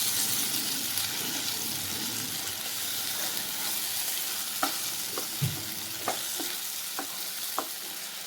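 Steady sizzle of masala paste frying in a pan for avarekalu (hyacinth bean) curry, with a spoon scraping and stirring in sharp, regular strokes over the constant hiss, close by.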